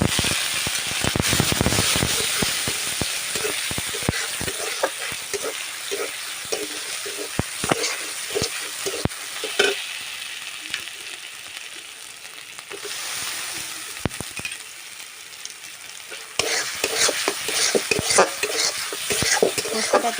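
Ground poppy seed paste with turmeric and salt frying in a pan, stirred continuously with a spatula scraping and clattering in rapid bursts over a constant sizzle, close and fairly loud throughout.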